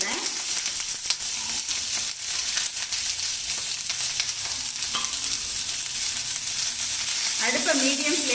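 Large onions with garlic sizzle steadily in oil on low heat close by, with occasional scraping stirs over the constant hiss and a louder burst near the end.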